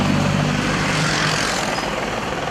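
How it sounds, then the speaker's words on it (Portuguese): A helicopter flies over a city area, its droning rotor and engine noise loud and steady before gradually fading as it moves away. "Até um helicóptero sobrevoava a área."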